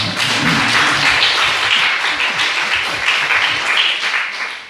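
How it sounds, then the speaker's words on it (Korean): A church congregation breaks into sustained applause during a sermon, a loud, dense roomful of clapping that stays steady for several seconds with scattered heavier hand thumps, tapering slightly at the end. "박수 한번 칩시다."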